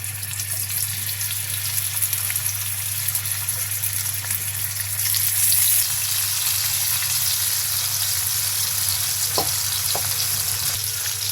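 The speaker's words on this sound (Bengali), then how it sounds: "আমি তেল দিয়ে দিচ্ছি আমি মাছ দিয়ে দিলাম" Poa fish frying in hot oil in a pan gives a steady, close, continuous sizzle with no voices over it.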